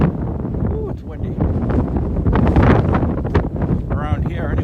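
Heavy wind buffets the microphone on a seafront walk by a historic castle island, a continuous loud rumbling roar with gusts rising and falling, while a person talks underneath.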